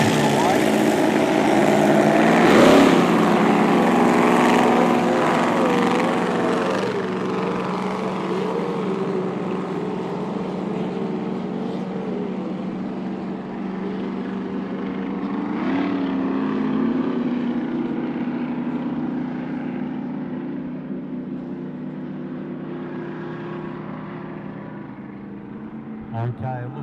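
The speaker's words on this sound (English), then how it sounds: "I can hear those blown boats starting to start up" Blown racing power boat engines at Glenmaggie starting up for the Glenmaggie Cup, droning and revving with shifting pitch at a distance, while a commentator talks over them throughout.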